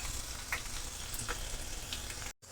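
Kashmiri chili powder sizzles in hot oil for a dhaba-style garlic fenugreek dish, a continuous close crackling hiss that cuts out briefly near the end.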